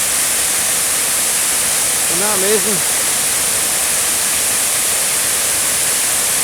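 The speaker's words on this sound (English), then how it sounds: "The waterfall behind the Douglas Hotel." Broad, steady roar of a waterfall swollen by heavy rain behind the Douglas Hotel in Brodick, on the Isle of Arran, filling the clip continuously while a person briefly speaks over it.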